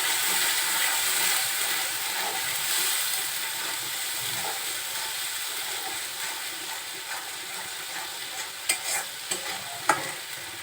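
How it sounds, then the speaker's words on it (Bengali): Spices such as chili and coriander powder frying in oil for a mustard rohu curry, a steady close sizzle and hiss with stirring scrapes and a few sharp spits near the end, no voices. "সব মশলাগুলো এখন আবার একটু কষাবো। এই সময় একটু সাবধানে কষাবেন, কেন মশলাটা তেলের মধ্যে দিলে অনেক ছিটকায়।"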